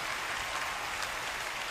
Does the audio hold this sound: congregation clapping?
yes